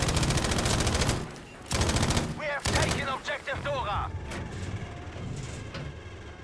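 Heavy gunfire in the Battlefield V online game rattles in long, rapid machine-gun bursts, loud and close, with short pauses and voices talking in between.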